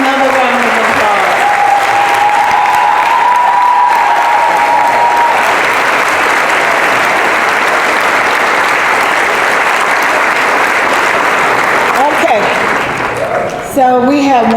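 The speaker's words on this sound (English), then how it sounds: "Let's give them another round of applause." Sustained, loud applause from a press conference audience fills the room for about fourteen seconds, with a few voices cheering under it and the clapping thinning out near the end.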